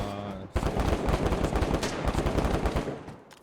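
Rapid, sustained bursts of gunfire in the video game DayZ during a deathmatch, dense and loud throughout, like automatic weapons firing nonstop after a brief quiet start.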